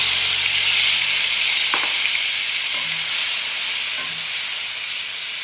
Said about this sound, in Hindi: अब हम इसको थोड़ा सा इसके अंदर फ्राई करेंगे।